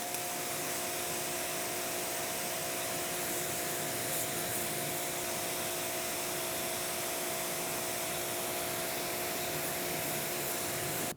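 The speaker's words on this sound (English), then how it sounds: "Time to rinse." Steady, loud broadband water spray rinses a car coated with Adam's graphene and ceramic spray coatings, a continuous hiss running unbroken for about eleven seconds with no talking.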